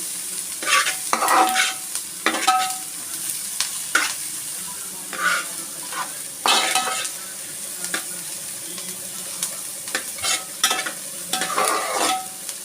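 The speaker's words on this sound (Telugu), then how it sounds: "ఇది బాగా వేయించుకోవాలి, బాగా వేగాలండి." Vegetables for fast-food-style egg fried rice stir-fry in a pan, a soft background sizzle broken by repeated bursts of spatula scraping and tossing at an uneven pace, close up and without talk.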